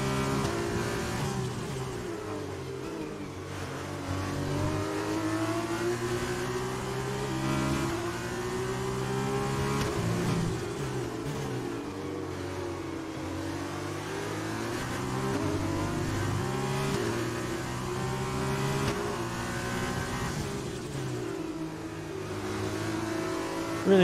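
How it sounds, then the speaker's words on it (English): An F1 car engine in the F1 2020 racing game at Barcelona, revving hard through repeated rising gear sweeps with drops at each shift, loud and continuous close up. "Rev this engine out."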